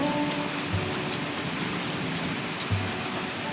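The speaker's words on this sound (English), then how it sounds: "The day ended with it raining, so the birds could not dry out until the sun came up the next morning." Steady rain falls near a creek in the woods as a dense, even hiss of drops that runs unbroken through the whole stretch, with a couple of faint low thumps beneath it and no voices.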